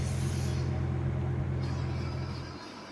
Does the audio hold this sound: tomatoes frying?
no